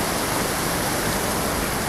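Water rushes steadily through corrugated drainage pipe used for gutter runoff, a continuous broadband whoosh that stays even and close for the whole stretch, with no voices.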